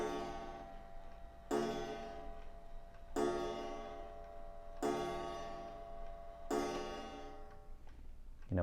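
A clock strikes the hour with four resonant chimes, evenly spaced and each ringing out into a long decay, over a faint steady ticking in a quiet room.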